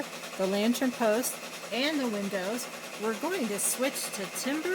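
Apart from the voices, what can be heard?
embroidery machine running in the background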